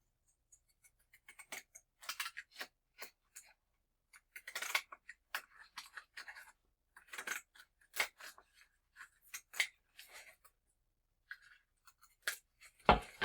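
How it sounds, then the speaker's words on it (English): Scissors snip repeatedly through a crinkly plastic chip bag in quick irregular bursts, close up and fairly quiet, with brief pauses between cuts. "I'm going to go ahead and cut it right here."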